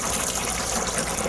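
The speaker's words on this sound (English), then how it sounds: "we're just grabbing some water here from one of our tanks, and we're just going to kind of real gently pour it out" Water from a holding tank gently poured over walleye eggs during a rinse, a steady close wash of liquid running throughout with no talk.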